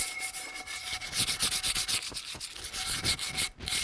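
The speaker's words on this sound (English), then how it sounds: "soak and then remove it a little bit more and then sand it a little bit more" Close, loud sanding of a drum to strip off old glue, with steady rhythmic back-and-forth rubbing strokes and no talk.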